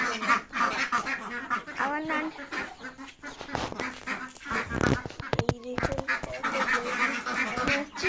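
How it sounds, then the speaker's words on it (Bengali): A flock of ducks in a leafy courtyard in the morning, quacking repeatedly in overlapping calls near the listener, mixed with other fowl, under a person's talking. "অনেকগুলো হাঁস আছে"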